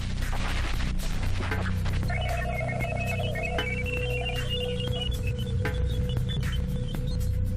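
Radio emissions from Jupiter captured as a receiver recording: a constant hiss of static beneath steady electronic tones, with thin whistling tones that rise and fall through the middle of the recording, loud and continuous with no voices.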